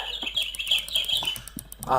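Birdsong from a Minecraft game world: repeated high chirps and tweets run through the whole stretch at moderate level, with a louder sweeping call near the end and faint game sounds mixed in.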